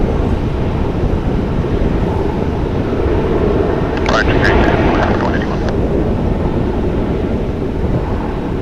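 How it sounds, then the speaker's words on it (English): A Frontier Airlines jet passes near DFW Airport as a steady, loud engine rumble mixed with wind buffeting, while a voice briefly cuts in midway. "There's a Frontier flight."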